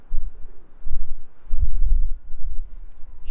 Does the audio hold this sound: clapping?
no